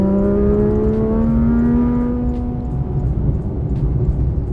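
A Porsche GT3 RS engine howls through the cabin under acceleration, a loud, rising mechanical wail with climbing harmonics that eases off into a lower, rumbling drone.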